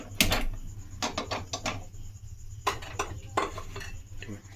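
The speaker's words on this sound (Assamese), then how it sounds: "গেছত কেৰাহী পাতি দিছোঁ।" A metal karahi wok is set down on a gas stove in a home kitchen, giving several sharp metallic clanks and knocks in quick clusters against a faint steady hum.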